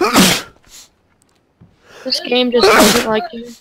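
A sharp, close sneeze bursts out, then a short silence before someone starts talking.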